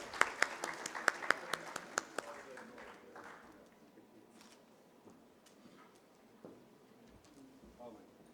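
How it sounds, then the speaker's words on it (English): Conference audience at a plenary session in a Karachi hotel applauding, a burst of loud individual claps at the start fading into a softer spread of clapping under a murmuring hall. "Please welcome him with a huge round of applause."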